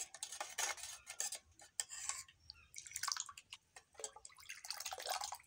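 A spoon stirs chili powder into tangy spiced water for fuchka. Light, intermittent clinks and watery swishes sound close but quiet, with no talk.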